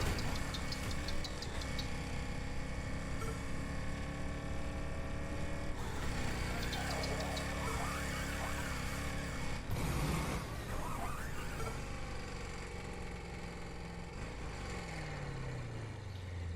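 Lamborghini Huracan engine in Lego 2K Drive, a steady loud mid-pitched hum with rising revs and a low pitch sweep near the end, continuous throughout with no talking.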